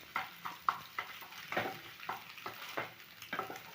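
Eggs with garlic sizzling in a pan, with a steady frying hiss broken by repeated stirring scrapes of a spatula against the pan, close and fairly quiet.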